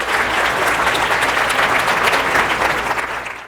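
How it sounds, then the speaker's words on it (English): Loud, dense audience applause welcoming a STEM motivational speaker, sustained clapping throughout that fades slightly at the end. "go ahead and give me a big round of applause for Kantis Simmons"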